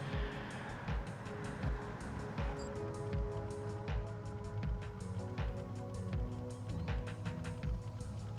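A 1955 Chevy 150 Sedan idling in the Forza Horizon racing game, a rough, lumpy low rumble with a steady pulsing rhythm, close and continuous throughout.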